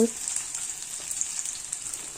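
Onion and garlic frying in oil in a pan, giving a steady soft sizzle with a bright hiss throughout, close and moderately quiet with no talk.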